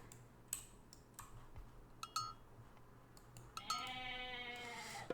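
A goat bleats in the strategy game Age of Mythology: The Titans, one drawn-out wavering bleat near the end following scattered mouse and keyboard clicks over a quiet hum.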